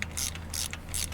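A ratchet wrench tightening a part in a car's engine bay, three short bright clicking bursts in steady rhythm, close and clear over a low hum.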